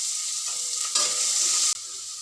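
Onions and curry leaves fry in a hot pan with a steady, close sizzle, punctuated by a few stirring scrapes and a sudden rise and drop in the hiss.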